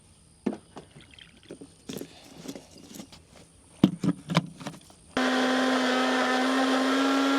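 Kitchen clatter and pattering taps in a camper van give way to a blender switching on, whirring loud and steady as it mixes a smoothie with oat milk.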